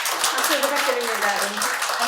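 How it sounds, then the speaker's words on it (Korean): An audience at a talk on AI in banking applauds, steady dense clapping that runs throughout with a voice speaking over it. "박수 부탁드립니다"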